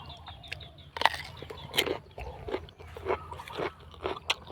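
Someone bites and chews a fresh home-grown cucumber up close, giving a series of crisp, irregular crunches against a quiet outdoor background.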